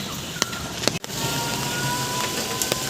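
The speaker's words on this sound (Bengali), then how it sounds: "টিপ টিপ টিপ করে পড়েই যাচ্ছে" Steady rain falls outside a roadside tea stall, a soft, even wash of patter with a few louder drips landing close by, and no talk over it.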